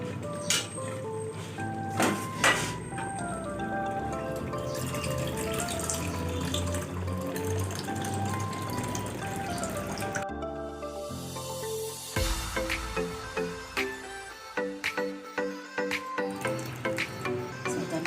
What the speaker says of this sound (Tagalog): Dagdagan lang natin ng water.